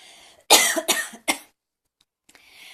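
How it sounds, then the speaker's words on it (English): Several harsh coughs in a tight cluster, close and loud, followed by a quiet pause and faint rustling. "I'm going to cough."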